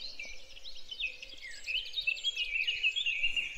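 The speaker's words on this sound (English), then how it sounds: "The first chaffinch has just started to sing" A chaffinch sings in a dawn chorus, a vigorous run of bright, rapid notes ending in a flourish, moderately near over quiet background, with other birds faintly around.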